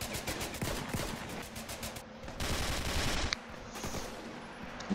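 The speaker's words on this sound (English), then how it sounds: "What's my weapon now? Oh, it's an automatic rifle." Automatic rifle fire in the video game Ravenfield: rapid, sustained bursts of shots rattle through most of the stretch, dense and close, with a short break in the middle before firing resumes.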